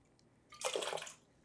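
A tablespoon of apple cider vinegar is poured into concentrated garlic water, a short, soft splash and trickle up close in a quiet room.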